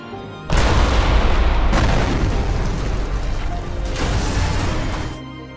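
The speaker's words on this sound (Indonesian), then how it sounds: "tiba-tiba terjadi ledakan di reaktor nomor 1." Explosion sound effect for a blast at reactor number 1 of a nuclear plant, a loud, sustained roaring rumble that bursts in suddenly and fills the clip before easing off at the end.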